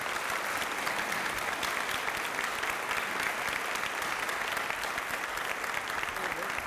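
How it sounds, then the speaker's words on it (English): Steady crowd applause for a small-town mayor at a small business event, dense and sustained throughout with a faint murmur of voices mixed in. "So let's give him a round of applause,"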